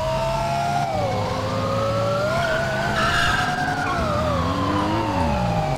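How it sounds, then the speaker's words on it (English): A V10 supercar in GTA 5 roars with rising and falling revs, layered with tire skids and a wailing siren, loud and continuous without speech. "Have you ever heard a sound of a V10?"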